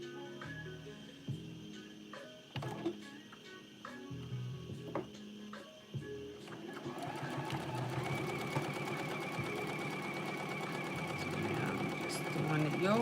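A sewing machine stitches a garment yoke, its motor starting with short bursts and then running into a steady, continuous whir. A person talks over the early part.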